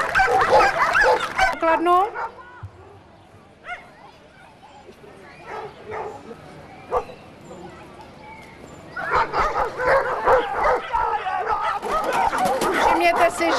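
A trained dog guarding a money box during a protection exercise barks and yips loudly in bursts, with people talking around it and quieter stretches between the barking.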